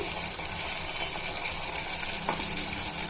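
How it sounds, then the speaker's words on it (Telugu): Ground peanut mixture going into a frying tomato masala for a broad bean curry, with a continuous loud sizzle and hiss from the pan and a faint soft thud partway through. "మనం ఇందాక గ్రైండ్ చేసి పెట్టుకున్న పల్లీల మిక్చర్ని కూడా యాడ్ చేసుకోవాలి."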